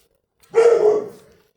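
A dog barks once from a neighbouring yard beside a backyard garden with a Fuji apple tree, a single fairly loud, slightly drawn-out woof that fades quickly, heard alone without talk.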